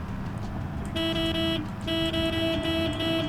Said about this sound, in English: Honk the horn under here